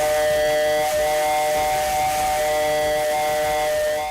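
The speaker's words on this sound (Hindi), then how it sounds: "एक स्टीम इंजन धीरे धीरे रफ्तार पकड़ने लगा।" Steam whistle and hissing from the restored 1962 steam locomotive on a trial run at a loco shed, a loud sustained multi-tone whistle held steadily over continuous steam hiss.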